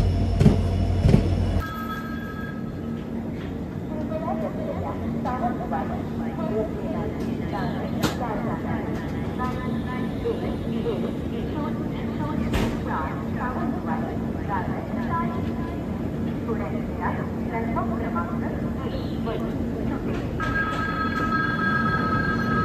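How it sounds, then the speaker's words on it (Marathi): The 11004 Sawantwadi–Dadar Tutari Express passes close by at Kankavli station, a steady loud rumble of wheels and carriages running throughout with sharp clanks and brief squeals over it. "समोरून क्रॉस होते आहे 11004 सावंतवाडी दादर तुतारी एक्सप्रेस."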